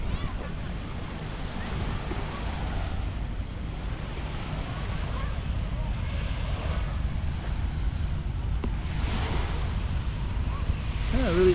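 Waves wash in steadily at a city beach in Si Racha, Thailand, a continuous broad surf rush mixed with gusting wind noise on the microphone, with faint voices now and then.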